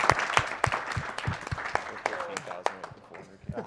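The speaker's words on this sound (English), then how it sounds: "Let's clap for the synchronized death." A live crowd at a speedrun charity marathon claps steadily for a Mirror's Edge race, with rhythmic hand claps under voices talking over them, then tapering off toward the end.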